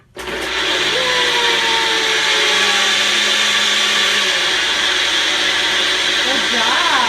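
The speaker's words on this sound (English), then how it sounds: "It's just a blender." A kitchen blender whirs loudly and steadily from start to finish, its motor pitch shifting slightly as the contents churn, with a child's faint vocal sounds nearby.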